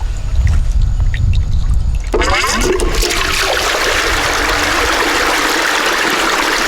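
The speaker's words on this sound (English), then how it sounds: "So you got the water flowing through the clay cloth." Steady rushing water pours and splashes continuously through a gold sluice, loud and close, with a brief shift in the flow partway through.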